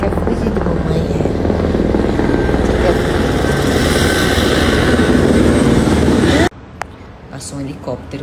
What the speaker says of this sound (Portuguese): Passou um helicóptero por aqui, bem pertinho.